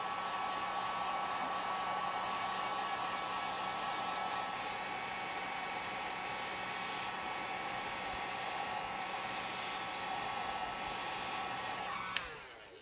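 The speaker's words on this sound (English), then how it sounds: "I'm gonna grab a heat gun." Heat gun blowing hot air in a steady, close, even whoosh that holds for about twelve seconds, then cuts off with a click and fades.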